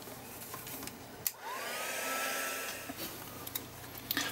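A hair dryer blows steadily to dry paint on an art journal page, a close, even whoosh that hums on with a few small knocks and handling sounds.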